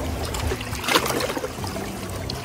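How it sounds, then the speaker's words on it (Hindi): Lake water lapping and trickling against the shore at a beach in Scarborough, Toronto, a close, steady gentle splashing with soft irregular ripples throughout, no voices. "पानी की जो लहरें हैं अच्छी लग रही हैं, आवाज़ कानों में बहुत अच्छा लग रहा है।"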